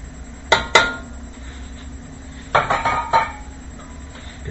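A spoon stirring a spice package into a pot of Manhattan clam chowder, with a few sharp metallic clinks against the pot in two clusters over a steady low simmer.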